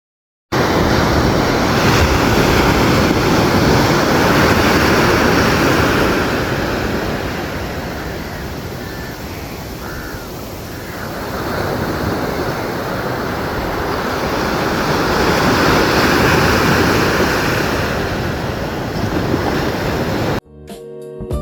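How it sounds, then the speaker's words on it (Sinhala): Ocean waves crash on the beach at Nilaveli, a loud, continuous roar of surf with swelling and easing surges, close and with some wind rumble, no voices. "එන්නකො රළ ගහන සද්දේ පොඩ්ඩක් අහන්න යන්න."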